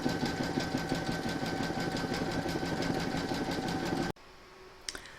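An embroidery sewing machine stitches a quilting round at a fast, steady buzzing pace up close, then stops abruptly, leaving near silence broken by a brief click.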